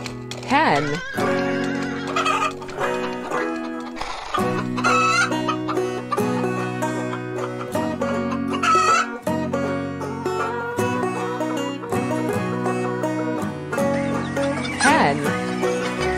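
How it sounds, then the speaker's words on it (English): A hen clucks and calls in bursts over continuous background music, fairly loud and close, with no clear speech. "Hen."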